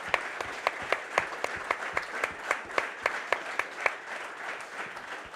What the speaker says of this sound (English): So give yourselves a round of applause, please, ladies and gents.